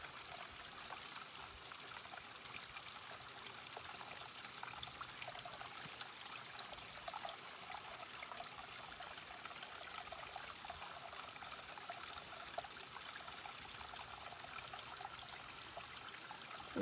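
A small stream trickles steadily through a little canyon along the Appalachian Trail, its soft, continuous babble of water faint and unbroken with no voices.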